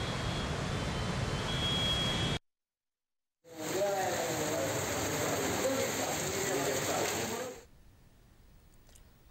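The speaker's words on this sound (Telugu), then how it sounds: "హైదరాబాద్ నగరంలో జోరుగా వర్షం కురుస్తోంది." Heavy rain pours over Hyderabad city, a dense steady hiss of downpour running loud and continuous, broken by a short silent gap, then fading softer at the end.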